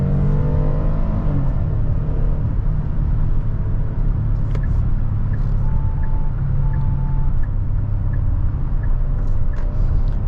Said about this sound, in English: In sport mode, this SUV holds the RPMs high